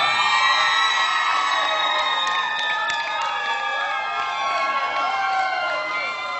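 A large crowd at Eurovision Moldova 2015's national final in a live television hall cheers and whoops loudly and steadily for the winner, a continuous roar that holds at high level throughout.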